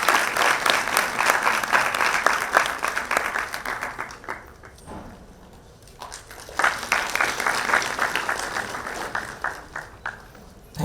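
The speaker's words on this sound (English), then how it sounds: "Please give a big round of applause." Audience at a conference event applauding as a commanding officer, an Air Force group captain, comes up on stage, sustained clapping that dips briefly in the middle, then rises again and tapers to scattered claps.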